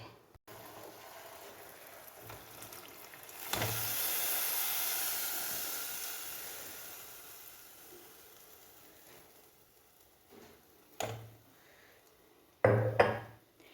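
Salty water drained from mangoes pours into a pot of ground spices for a mustard mango pickle, giving a rising hiss that swells and slowly fades, followed by a few brief utensil clinks.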